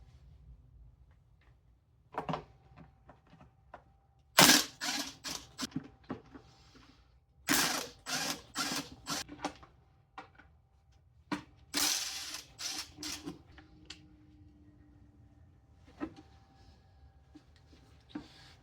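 A hand ratchet clicks in quick, sharp bursts of rapid ticks, close and loud, separated by quiet pauses as bolts come off the upper timing belt cover of a Toyota 7M-GTE engine.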